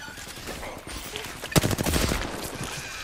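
A short burst of rapid gunfire in a video game, a few loud cracks clustered mid-clip over steady background game noise.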